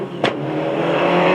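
A 1998 Mitsubishi Evolution 5 Group N rally car at the Sligo Stages Rally drives back to base, its engine droning loud and close with a rising, steady note after a brief sharp burst.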